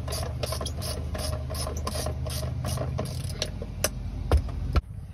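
Ratchet clicking while bolts are removed from an old cabover truck during a wet kit removal, a quick run of close, light ticks repeating steadily over a low background hum, with a couple of heavier knocks near the end.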